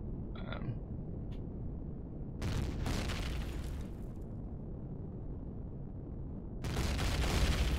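Homing missiles striking a ship in Empyrion Galactic Survival, heard as dull booming explosion bursts with a rumbling low end, a few separate blasts over a continuous engine drone.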